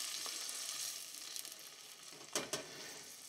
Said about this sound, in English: all that you want to do is just have the bacon and everything else reheating in the pan together